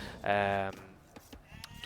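One sheep in Age of Empires II gives a loud, clear bleat lasting about half a second, followed by a few soft clicks and faint game sounds.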